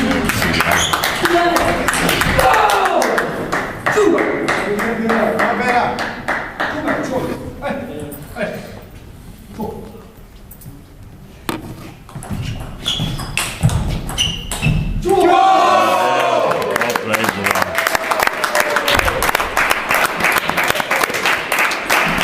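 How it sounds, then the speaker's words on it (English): An audience claps and cheers at a table tennis league match between B75 and Hillerød. Rapid clapping swells, briefly dies down, then returns strongly, with commentators talking throughout. "we can hear the audience cheering on"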